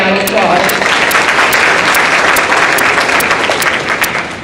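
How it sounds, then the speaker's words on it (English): Loud, dense audience applause at a community awards event fills the whole stretch, a steady crowd of clapping hands that tapers slightly toward the end. "Let's give her another round of applause."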